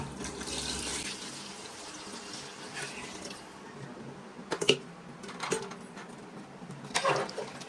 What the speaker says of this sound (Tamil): ஒரு கிலோ அரிசிக்கு ரெண்டு லிட்டர் தண்ணி ஊற்றிக்கலாம்